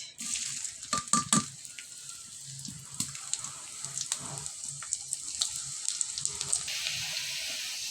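Onion dropped into hot oil in a pan, sizzling and crackling steadily with a burst of sharp pops early on, close and moderately loud, no talking.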